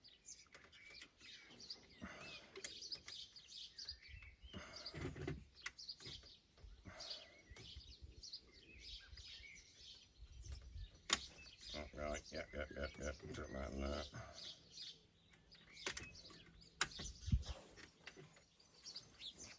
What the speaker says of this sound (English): It appears that the sparrows behind me are having a riot of some description